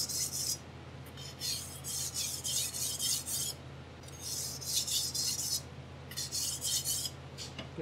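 A steel knife blade rasps against a sharpening stone in steady back-and-forth strokes, coming in bursts of gritty scraping with short pauses between passes, close and moderately loud.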